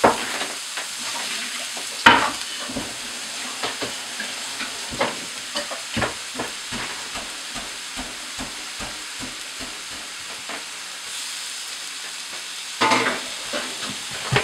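Quinoa stirred around a hot pan: a steady sizzle broken by repeated scraping clicks and knocks of the utensil, close and alone without speech.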